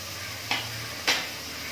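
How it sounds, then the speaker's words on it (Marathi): Onion frying in a pan for pav bhaji gives a soft, steady sizzle, punctuated by two short, sharp clicks about half a second apart; no voices. "हा कांदा गुलाबी होईपर्यंत आपल्याला शिजवायचा आहे"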